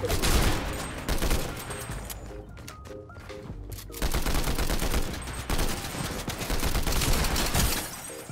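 Combat assault rifle fire in the Fortnite Season 8 video game, with dense bursts of rapid shots running through most of the stretch, a brief lull in the middle, then sustained loud firing again with no voices.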